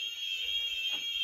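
Fire alarm sensor sounding in an abandoned Gothic mansion, a steady high-pitched electronic tone held without a break at moderate level, with faint room noise beneath.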